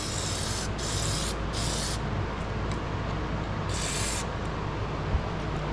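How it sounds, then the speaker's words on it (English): Lubricant sprayed onto parts of a 1970 Grand Prix, three short hissing bursts from an aerosol can close by over a steady background rumble. "So anywhere that we can see it, we're gonna lube them up."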